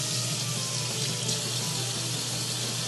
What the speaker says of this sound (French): on le rince à l'eau froide pour enlever l'excédent de cassonade et de sel